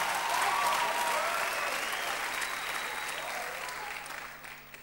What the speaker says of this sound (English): Clap your hands and shout unto God.